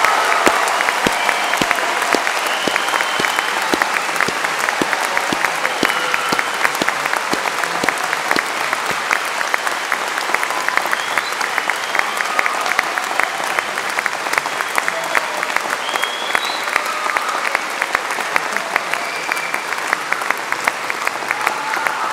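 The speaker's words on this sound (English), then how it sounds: "can I suggest we have one more great round of applause for what our graduating students have achieved" A ceremony audience gives graduating students from the faculty of Health, Education and Life Sciences a long, loud, sustained round of dense clapping that stays steady throughout, with faint crowd murmur.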